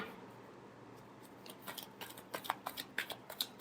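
Tarot cards being shuffled for a weekly Virgo horoscope reading on job and money: faint, quiet start, then a run of crisp riffling flicks and snaps building over the last two seconds, close and alone without talk.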